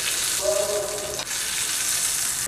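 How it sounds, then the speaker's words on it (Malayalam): Fried mustard seeds are tipped from the tempering pan into a raw mango yogurt curry. A steady, moderate sizzle and hiss runs throughout, with a brief tonal squeak near the start. "വറുത്തെടുത്ത് കടുക് ഇതിലേക്ക് ഇട്ട് കൊടുക്കാം."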